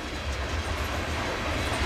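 A freight train of empty ethanol tank cars rolls past close by, a steady rumbling roar with low rhythmic clatter of rail cars and no voices.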